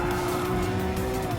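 Race cars roaring and squealing their tires in Gran Turismo Sport, a dense continuous blend of engine drone and tire noise throughout, loud and steady with no break.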